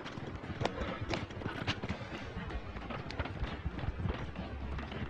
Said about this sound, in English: He's a good horse, old Silver.